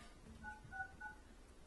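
A telephone keypad sends three short DTMF dialing tones in quick succession while a number is called back, clear against a quiet room background.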